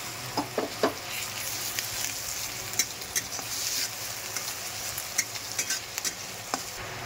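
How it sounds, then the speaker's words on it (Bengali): Garlic frying with onion paste in hot oil for a home-style prawn malai curry: a steady, fairly quiet sizzle with scattered sharp clicks and scrapes of stirring, and no voices. "এবার আমরা একটু রসুনটা দিয়ে দেবো। দিয়ে রসুনটা দিয়ে একটু ভেজে নেবো।"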